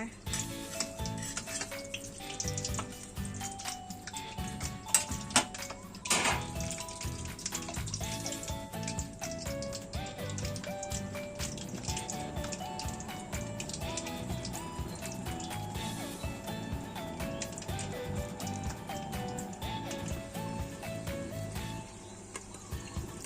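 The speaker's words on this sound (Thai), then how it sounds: "น้ำมันร้อนแล้วแล้วก็เอาหนัง ลงทอดก่อนเลยทางฝั่งหนังนะ" Continuous loud sizzling and crackling of pork belly skin frying in hot oil, with an occasional clatter of a utensil against the pan.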